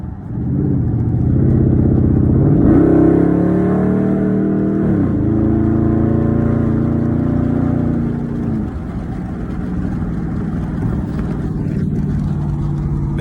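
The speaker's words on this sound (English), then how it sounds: "I'm finna do a little burnout." A 2012 Dodge Charger SRT8 doing a burnout roars loud and close, its engine note climbing and straining through a sustained rev and then settling into a deep, heavy rumble.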